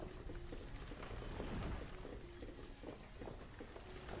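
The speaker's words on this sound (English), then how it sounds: "It is raining like crazy." Heavy rain in the video game Banished, a dense, continuous downpour hiss with low rumbling underneath, steady throughout with no talking.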